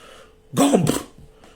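A voice imitates a dog's bark, one short gruff woof close to the microphone, with a fainter second sound at the end.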